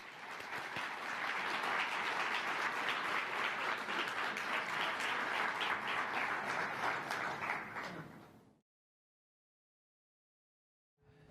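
An audience applauds to welcome a panel at an education summit plenary, sustained dense clapping for about eight seconds that fades out into silence.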